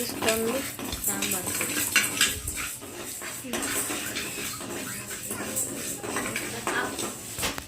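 Ingredients for sambar frying in a pan, with busy clattering of a utensil against cookware and a light sizzle underneath, close and continuous, with some background voices.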